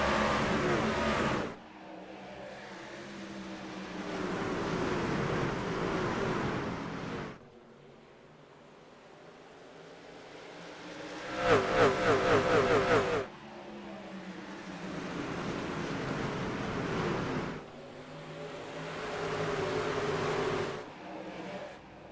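Race truck engines roar at Richmond in the iRacing simulator, repeated loud surges of revving and passing vehicles with brief quieter gaps, a sharp louder burst midway.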